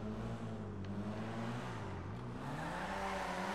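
An Annis Saversta car driven in GTA V through a left turn, its engine note rising and falling as it revs, with a faint tire sound, steady and close with no talk.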